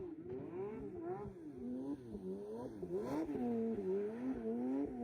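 A car engine revs through its stock OEM exhaust, rising and falling repeatedly in a steady wavering drone, moderately close and alone.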